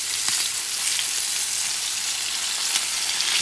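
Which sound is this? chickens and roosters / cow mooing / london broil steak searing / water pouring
london broil steak searing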